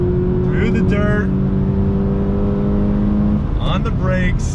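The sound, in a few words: 2020 Toyota 86 Hakone Edition braking and downshifting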